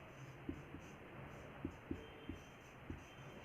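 A Hindi letter is handwritten with a pen on paper, producing a few faint, short scratches and taps spaced irregularly over a low, steady room hum.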